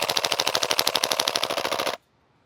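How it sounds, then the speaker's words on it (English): A Krytac KRISS Vector gas blowback airsoft SMG fires on full auto in one rapid, even burst of loud close shots lasting about two seconds before stopping abruptly into silence. "Let's see what the full auto has to say to the KRISS Vector."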